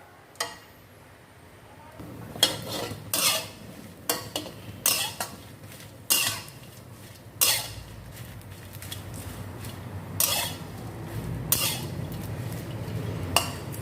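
Dried chillies dry-roasting in a metal pan, with a utensil stirring and knocking against the pan in a series of sharp, close clanks and scrapes over a soft steady background, no voices.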